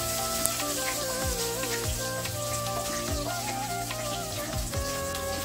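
Chopped ginger and garlic sautéing in a hot pan, a steady close sizzle and crackle with occasional stirring scrapes and a faint background hum, no talk.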